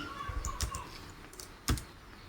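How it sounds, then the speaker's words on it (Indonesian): Keystrokes on a computer keyboard while a document is typed up in Word, several quiet irregular clicks followed by one sharper, louder key press near the end, close by with no talking. "Kemudian kita enter, kita tab lagi, tab lagi, kemudian ketik poin B."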